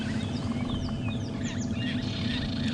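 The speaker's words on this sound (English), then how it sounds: "Lots of bird calls happening." Various birds calling in the African bush after rain, including oxpeckers and weavers, a dense chorus of chirps and whistles over a constant low rumble, likely a vehicle engine idling.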